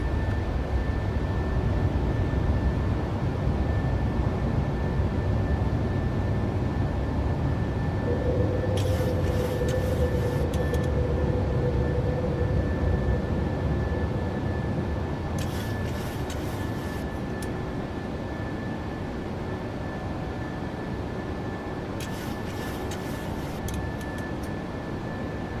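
PMDG 737 airliner climbing after takeoff in a flight simulator, a steady broadband engine roar with a thin constant whine, a few brief clicks over it, gradually easing slightly, no talk.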